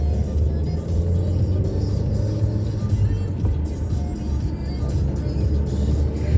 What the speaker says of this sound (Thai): ขับรถชมวิวนะคะ